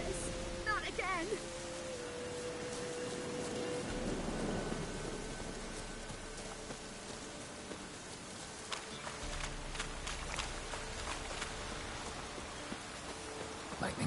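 Thunder from a lightning strike rolls low and steady amid rain in the video game The Witcher, a sustained rumble under falling raindrops, with faint game sounds and voices scattered over it.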